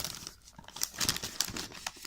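Packing tape and packaging being pulled open on a toy box, with close, irregular crinkling and tearing bursts and no speech.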